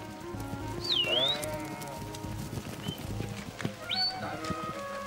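Sheep in a large farm flock of about 2,500 bleat with several rising and falling calls over shuffling hooves and the steady murmur of the animals nearby.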